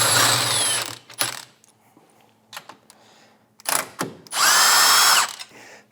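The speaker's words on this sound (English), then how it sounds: "This is held in by two E14 bolts. And I like to start all my bolts by hand, get them loose." E14 brace bolts in the engine bay of a 2021 Toyota Supra being loosened with a power tool, several short loud whirring bursts separated by quiet gaps and small metallic clicks, close up.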